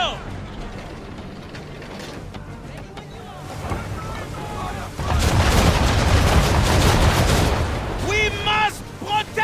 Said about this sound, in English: The Belladonna is taking fire!